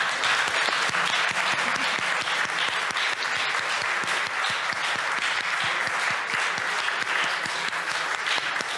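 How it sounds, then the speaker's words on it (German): An audience at a hacker congress claps for a pair of demoscene presenters, a full, even burst of many hands that keeps up without letting off and drowns out everything else. "Applaus für die beiden"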